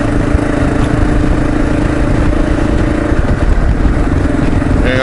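A Kawasaki KLR motorcycle engine drones steadily and loudly throughout a ride on a daily commute, with a constant mid-pitched rumble and steady wind-blown roar.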